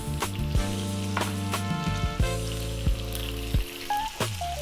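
Pieces of beef sear in a hot pan, a loud steady sizzle broken by sharp pops and clatters as pieces are moved and pressed into place.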